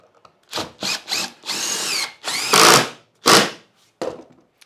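A power tool scalloping a small clamped workpiece in a workshop: several close, loud whirring bursts of varying length, with pitch that rises and falls as the load changes, separated by short silences.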